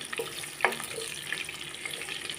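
Garlic cloves, some whole and some chopped, sizzling in olive oil in a pan, a steady quiet frying crackle with one brief louder spatter near the start.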